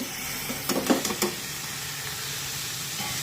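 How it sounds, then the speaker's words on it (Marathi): Radish pods tossed into a pan of onions sautéed with spices, giving a few sharp crackling bursts of sizzle that settle into a soft, steady frying hiss. "आता त्यानंतर यामध्ये या मुळ्याच्या शेंगा टाकूया"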